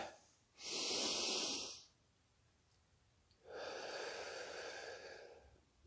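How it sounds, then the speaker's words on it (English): A person takes a slow deep breath, a loud airy inhale followed after a pause by a long steady exhale, heard close up with no talking. "I want us all just to take a deep breath with each other"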